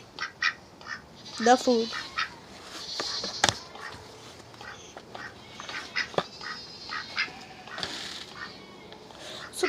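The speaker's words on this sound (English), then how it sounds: "My ducks." Farm ducks quack in scattered bursts, close and fairly loud, with a voice speaking briefly among them.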